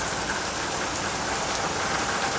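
Heavy monsoon rain pours down steadily, a dense, even hiss of drops close by that never lets up, with no talking.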